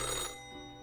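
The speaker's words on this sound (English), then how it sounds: "The old-fashioned phone rings again right as you settle in." An old-fashioned telephone bell rings in the video game Death and Taxes: one short, bright metallic ring that is loud at first, then fades quickly. No voices.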